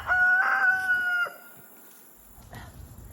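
A rooster crows once, loud and close, and the crow trails off into scattered chicken clucks and rustling in a backyard flock.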